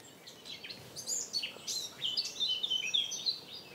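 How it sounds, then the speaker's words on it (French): Eurasian blackcap singing in a lakeside marsh, a run of quick, bright warbling phrases and chirps, moderately close and clear over a soft, steady background hiss. "Il y a une fauvette à tête noire Ici."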